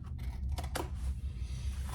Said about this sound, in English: And then I'll cut off all my zipper extra